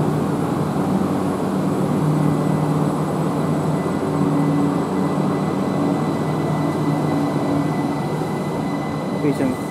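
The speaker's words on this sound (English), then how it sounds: "There goes the Ramsgate to London Charing Cross service." A Southeastern Ramsgate to London Charing Cross service departs Ashford, a steady, loud rumble of the train rolling past with faint tonal hum and occasional light squeal from the wheels.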